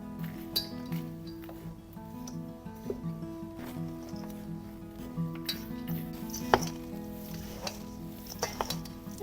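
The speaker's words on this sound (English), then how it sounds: "I'm gonna be using 1 strong spoon to stir this" A strong spoon stirring dry granola mix in a bowl, giving repeated scraping, rustling strokes with light clinks against the bowl, close and moderately quiet, no talking.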